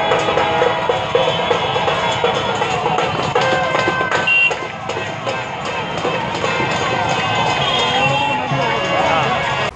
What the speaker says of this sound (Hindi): भीड़ लगा के थाली चम्मच बजा रहे हैं, एक कह रहा है गो कोरोना